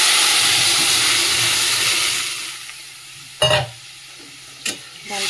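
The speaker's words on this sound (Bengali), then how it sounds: "এবারে ডালটা ফোড়ন দিয়ে দেবো।" A tempering of fried onion and turmeric oil is poured into dal, giving a loud hissing sizzle that fades away, followed by two short sharp bursts of sizzling and clatter, with no voices.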